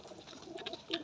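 High-flying and game pigeons coo softly at a large pigeon farm in West Bengal, a faint low murmur with a slightly stronger coo near the end.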